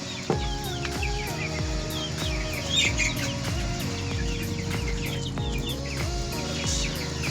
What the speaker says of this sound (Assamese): মই বৰ্তমান ইয়াত লোকেল মুৰ্গীৰ পোৱালি ৰাখিছোঁ